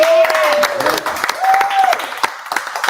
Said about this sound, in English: Let's give a round of applause for Jan.